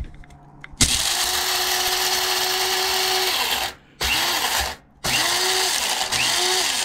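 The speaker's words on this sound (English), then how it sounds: "To grind this, all you do is push this little black lever on the front of this top right here." Krups electric blade grinder whirring loudly as it grinds San Francisco Bay Colombian whole-bean coffee, running in three close bursts with brief pauses between, the motor pitch dipping and recovering as the beans break down.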